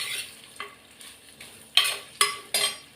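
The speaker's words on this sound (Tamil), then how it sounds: "எண்ணெயிலேயே வதங்கணும்." Bitter gourd masala sautéing in hot oil in a pan, with a steady sizzle broken by several sharp scraping stirs of a spoon, close and fairly loud.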